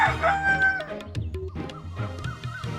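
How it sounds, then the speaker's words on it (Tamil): Rooster crowing and hens clucking, a close, loud drawn-out crow at the start followed by scattered clucks and fowl calls, with some voices mixed in. "கோழி கூவுறது கேட்டுச்சுல?"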